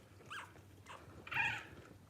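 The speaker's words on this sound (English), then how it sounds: "It was like a purr." Runt newborn puppy making faint, brief squeaky whimpers and a soft purr-like trill, three short sounds close by in a quiet room.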